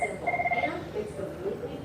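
A telephone rings with a brief electronic trill, heard under a person's talking amid steady room noise.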